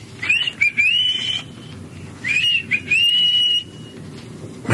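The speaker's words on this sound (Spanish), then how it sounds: "voy a echarle un chiflido" A person gives two loud, sharp whistles to call someone, each a rising then sustained high tone with a brief break, set against a quiet background hum.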